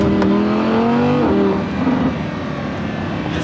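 A Lamborghini Aventador hardtop's engine runs steadily and fairly quietly at close range, with a brief rise in pitch partway through before settling into a smooth hum.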